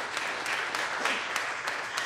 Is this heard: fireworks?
no